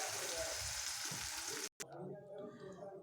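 Potato filling fries with spices in a pan, giving a steady sizzle that cuts off briefly and then returns softer, with some stirring.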